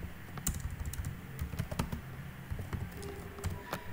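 Code being typed on a computer keyboard produces rapid, irregular clicks and key taps close by, with scattered sharper keystrokes over a quiet room.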